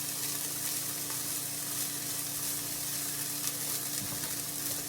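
Shrimp and andouille sausage stir-frying in leftover sausage fat and garlic confit oil, a steady dense sizzle close to the pan, unbroken and with no talking.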